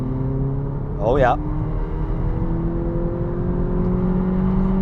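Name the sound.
Volkswagen Polo GTI engine revving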